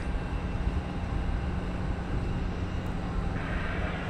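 Frontier Airbus A320neo arriving from Denver at Phoenix airport, a steady broadband jet engine roar heard from a distance, even and continuous without voices.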